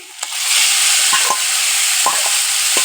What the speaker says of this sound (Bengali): এখন আমি এই মশলা দিয়ে মাখিয়ে রাখা মাছগুলো দিয়ে দিতেছি